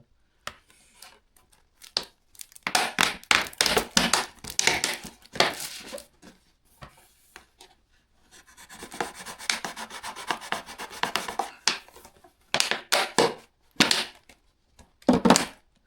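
A plastic Coca-Cola bottle being cut gives bursts of close, scratchy rasping and crunching, with short pauses between strokes.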